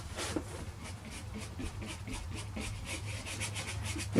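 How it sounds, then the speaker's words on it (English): Gritty acrylic ground is brushed onto a painting surface in repeated downward strokes, producing soft, rhythmic scratchy rubs, close and fairly quiet, one after another. "I'm using some downward strokes here, just being a little bit directional with the way the grit's going on"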